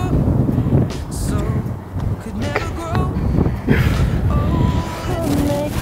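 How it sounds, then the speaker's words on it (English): Gusting wind buffets the microphone with a constant low rumble, while faint voices and small movements come and go underneath. "It's so windy."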